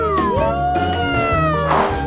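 A person imitates a cat's meow in a long, loud, drawn-out voice, close up and alone, with rising and falling wavering pitch.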